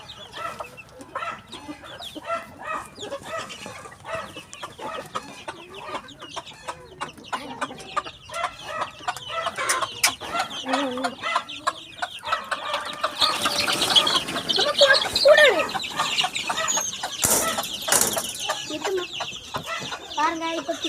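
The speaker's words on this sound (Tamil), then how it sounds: "இதான் நாட்டுக்கோழி." Native country chickens cluck close by amid scattered clicks and rustling, their calls coming irregularly and growing busier and louder toward the middle.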